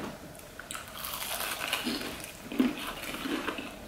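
Crunchy fried chicken bitten into at a Korean meal alongside beef intestine casserole, giving several close, crisp crunches and chewing bursts, quiet overall against light background noise.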